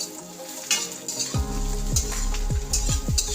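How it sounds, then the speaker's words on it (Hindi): Square-cut vegetables, including red bell pepper, fry on high flame in a pan for chilli soya, giving a loud, steady sizzle broken by repeated scraping stirs and clinks. "तो इन सब्जियों को मैं हल्की सी फ्राई कर लेती हूँ, वो भी हाई फ्लेम पर ही फ्राई करनी है।"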